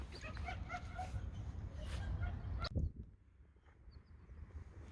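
German Shepherds yip, whimper and bark in a noisy scuffle during a mating attempt, the commotion stopping abruptly partway through and leaving quieter background noise.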